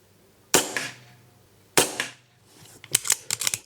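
Air rifle fired at targets outdoors: two sharp, loud cracks about a second apart, then a quicker cluster of lighter snaps and clicks near the end, with no talking.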